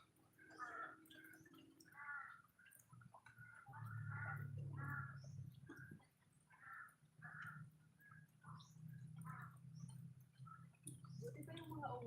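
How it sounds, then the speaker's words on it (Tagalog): Crows caw repeatedly at a distance, their calls blending with a steady low outdoor rumble and faint background noise. "Buti pa yung mga uwak. Ang ganda ng sound."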